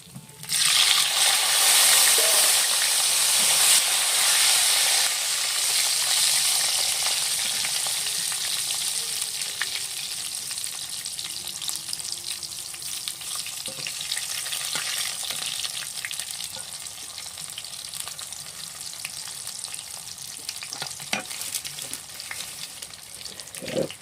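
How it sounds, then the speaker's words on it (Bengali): Potatoes frying in hot oil for a fish-head muri ghonto, a steady loud sizzle and crackle that eases slightly over time, with occasional stirring clinks and no talking. "তেলে আমি এখন আলু ভেজে নেব।"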